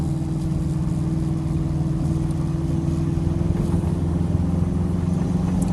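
A Subaru EA82T turbo engine cruises on the highway at gentle throttle toward 100 km/h, heard from inside the car as a steady, loud low drone and hum without variation or speech.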